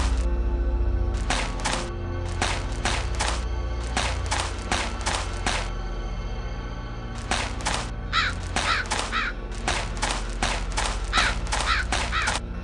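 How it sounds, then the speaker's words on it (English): Crow caws repeat in rhythmic bursts from the Lionel Trains: Con Game Union Pacific video game, loud and close, over a steady low background of game music and ambience, with no talking. "A crow!"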